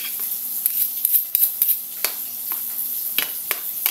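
A utensil stirs sisig tokwa with liver spread in a pan, making a series of sharp scraping clicks and taps against the metal over a faint sizzle, close and fairly loud, with no voices.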